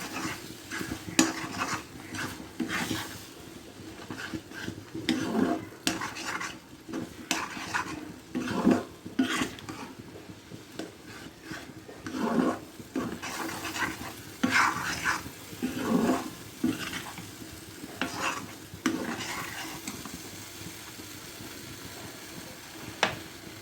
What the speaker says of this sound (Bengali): কনডেন্স মিল্ক অন্যান্য উপকরণের সঙ্গে মিশিয়ে নিচ্ছি।